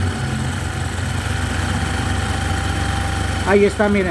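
Motorcycle engine idling steadily up close as its carburetor is adjusted, a low, even rumble with vibration; near the end the revs rise briefly while someone speaks over it.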